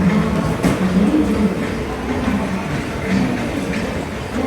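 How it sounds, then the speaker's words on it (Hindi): Mumbai Rajdhani Express pulling into New Delhi station, a loud, continuous rolling rumble with faint wheel clatter and rail hiss, close by and without talk. "ये मुंबई राजधानी एक्सप्रेस अभी न्यू दिल्ली में इंटर कर रही है।"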